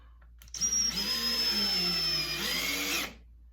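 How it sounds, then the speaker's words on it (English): A power drill drives screws into a wooden corbel shelf, starting abruptly with a loud whining motor that holds and shifts pitch for about two and a half seconds before stopping, no voices. "Time to screw in the screws."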